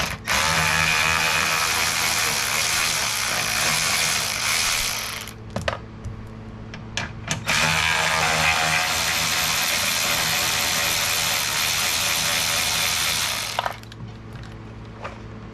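A hand ratchet works loose 10mm screws on a front license plate holder of a 2019-2023 Ford Ranger FX4, producing two long bursts of rapid clicking separated by short pauses and a few single clicks, close and clear.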